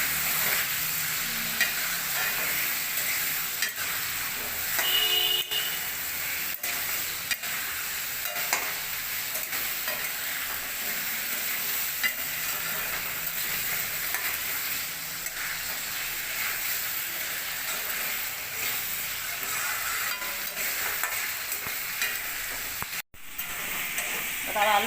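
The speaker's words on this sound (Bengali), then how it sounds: "এবার ভালো করে লাল লাল করে ভেজে নেব।" Salted potatoes fry steadily in a pan in a village-style kitchen, a continuous loud sizzle and hiss with occasional spoon scrapes and stirring clatter, close up throughout.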